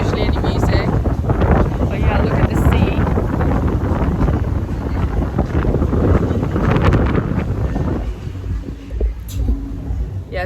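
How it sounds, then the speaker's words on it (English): Strong wind gusting by the sea in Mexico, a steady loud rumbling roar buffeting the microphone for most of the clip, then easing slightly near the end with faint background music. "Also, it's been really windy."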